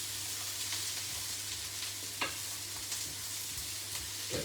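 Green vegetables stir-fry in a hot pan for chicken noodles, a steady close sizzle with a few sharp scrapes and clinks as they are tossed, no talking.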